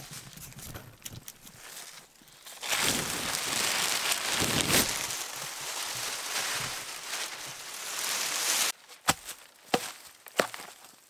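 Rain or wet snow falling outside a winter super shelter at a solo overnight bushcraft camp, a soft, steady hiss that swells for several seconds, with a few sharp knocks and clatters nearby.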